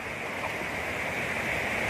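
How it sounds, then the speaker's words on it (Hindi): The Krishna River near the Mhaishal dam flows strongly, making a loud, continuous rushing roar of water that holds steady throughout without any voices over it. "बहुत ज्यादा पानी बह रहा है"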